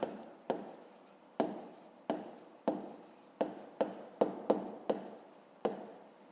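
A pen scratches across paper while a maths problem for a fifth-grade exercise is written out by hand, in close, crisp strokes, about a dozen quick scrapes in an uneven rhythm with no talking.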